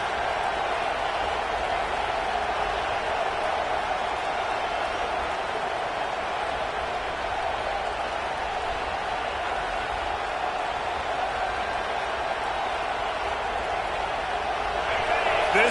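A stadium crowd in the college football game EA College Football 26 during USC versus Oklahoma, a steady roaring wash of cheering that holds throughout at a constant level.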